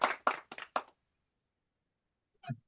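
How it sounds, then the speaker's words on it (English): Short burst of hand clapping during an online presentation, four quick claps close together followed by silence and one faint later thump. "The clapping is coming again and again."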